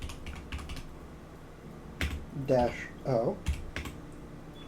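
Someone types a terminal command on a computer keyboard, with quick bursts of close, crisp key clicks in uneven runs while someone speaks briefly over them.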